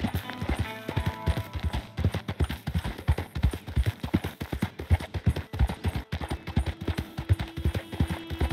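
Hooves clip-clop steadily as a horse is ridden in the video game Red Dead Redemption 2, a loud, regular rhythm of close footfalls running throughout with a faint background tone.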